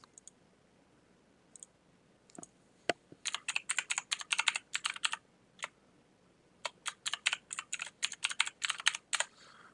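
A password is typed on a computer keyboard in quiet surroundings: a few scattered key clicks, then two close bursts of rapid, crisp keystrokes.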